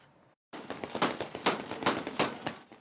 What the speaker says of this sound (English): jubilation and gunfire as many Syrians celebrate the fall of the Assad regime